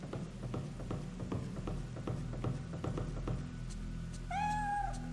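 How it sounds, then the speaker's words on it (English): A cat in the video game Fatal Frame 3 gives a single short meow near the end, after a run of soft rhythmic knocks and thuds in a quiet game ambience. "What's the matter, little kitty cat?"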